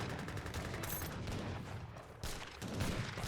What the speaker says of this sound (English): Light infantry getting marked by these Gatling guns.